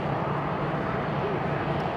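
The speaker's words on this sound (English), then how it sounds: "I can see another plane taking off right over there right now." An airplane takes off at Haneda Airport, heard as a steady, broad engine roar from a distance that fills the background with no breaks.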